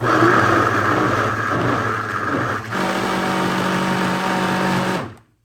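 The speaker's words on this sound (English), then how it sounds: "So let's go ahead and mix this up in our blender." A kitchen blender whirs through poblano peppers and beans with bean cooking water, a loud, close motor drone that briefly dips and shifts pitch midway before cutting off abruptly at the end.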